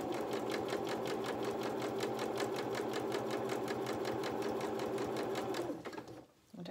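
Sewing machine running steadily with rapid, even stitching on wool coat fabric, stitching up and back to secure threads, loud and close, cutting off near the end.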